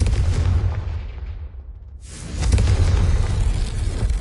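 A Confringo fire spell blast from the game Hogwarts Legacy: a loud, booming explosion rumble that fades out, then a second heavy burst of crackling blast noise that sustains to the end.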